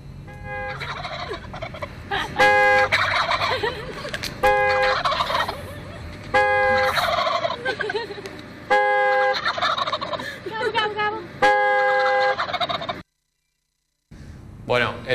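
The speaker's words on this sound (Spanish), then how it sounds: "Los pavos que se comen en Navidad o en el Día de Acción de Gracias en Estados Unidos. Bueno, que le tocan bocina y se ponen a charlar entre ellos." Several turkeys gobble in loud, rapid bursts, answering each other in repeated rounds separated by short pauses, with a brief silence near the end.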